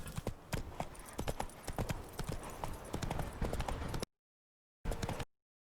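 Hoofbeats from a horse galloping in the fantasy role-playing game The Witcher 3 pound in a fast, steady rhythm for about four seconds, then drop out and return in a brief final burst.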